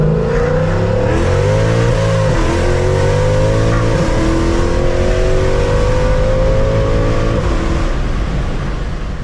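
A Mercedes-AMG C63S twin-turbo V8 revs hard and loud, pitch climbing and dropping through several sweeps, with crackling pops as the throttle lifts.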